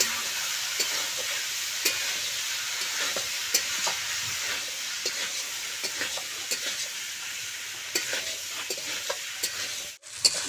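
Ground cumin, fennel and coriander stir-fried in a pan for egg ghugni: a steady, close sizzle with scraping strokes of a spoon running throughout, briefly dropping off near the end.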